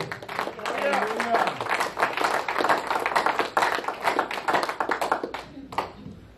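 A congregation at a church service claps steadily for several seconds in a sustained burst of applause that fills the room, then tapers off at the end.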